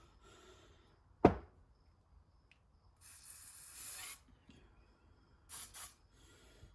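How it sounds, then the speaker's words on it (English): Ballistol is sprayed from an aerosol can down the barrel of a disassembled Ruger 57 pistol, giving short hissing bursts in a quiet room, with a sharp click before the first burst. "I'm going to spray my Ballistol down the barrel."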